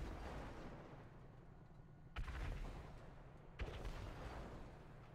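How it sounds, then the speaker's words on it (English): Two sharp booming video-game firework explosions, a second or so apart, each followed by a rumbling tail over a continuous low din of distant bangs. "Anybody aware of these explosions we're hearing right now?"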